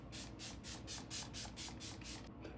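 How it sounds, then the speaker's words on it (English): Milani setting spray is misted onto a face in a quick, even series of about nine short hissing pumps, faint and close up, with no talk. "I'm going to use a coat of the Milani setting spray"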